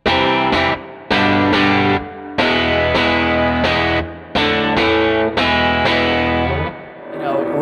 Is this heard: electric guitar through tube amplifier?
yes